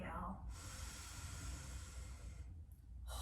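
A long, steady breath out during a breathing exercise in a standing mobility workout, a soft airy hiss lasting about two seconds, close and alone, with brief breath sounds at either end.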